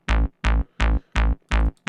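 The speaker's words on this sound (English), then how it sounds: "The bass altogether sounds like this." Synth bass layered with a sub an octave below, short punchy notes repeating about every third of a second, loud, heavy and alone without any voice.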